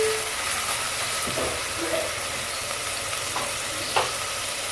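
Onions frying in a pan over medium heat for tinda masala, a steady close hiss and sizzle with a few scraping strokes of a spoon stirring them.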